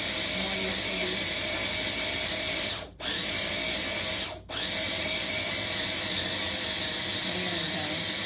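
A food processor blade grinds hummus in a steady, loud mechanical whir that cuts out briefly twice and then starts again.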